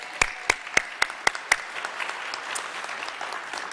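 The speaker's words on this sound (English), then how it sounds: "Big round of applause for that." An audience at a medical education keynote applauds, opening with several sharp separate claps that quickly blend into a steady wash of clapping which fades slightly toward the end.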